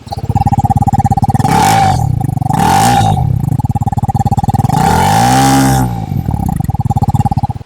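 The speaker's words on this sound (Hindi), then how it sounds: "अब मैं थ्रोटल देने वाला हूँ, ध्यान से सुनिएगा।" A TVS Apache 300cc motorcycle engine idles loudly close by, then the throttle is blipped twice, the revs rising and falling in quick sweeping surges before settling back to a steady, throbbing idle.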